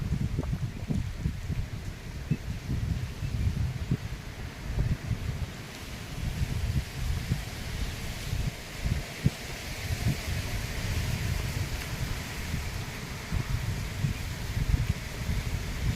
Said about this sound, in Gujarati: આજે આપણે જોરદાર પવન છે